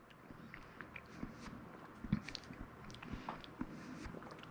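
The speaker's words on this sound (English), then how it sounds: "I have to chew this milkshake because a little bit's of cookie and cream." Close, quiet chewing of a thick cookies and cream milkshake with small cookie bits, producing soft irregular munching and squishing sounds over a few seconds with no talking.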